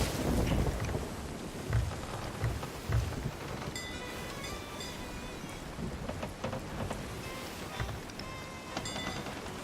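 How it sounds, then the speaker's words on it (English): Rain sweeps across a ship at sea in Sea of Thieves, a constant hiss of drops over wind and creaking hull, low and steady with occasional thumps and splashes, no voices. "We're also in the rain as well, so I was already bailing."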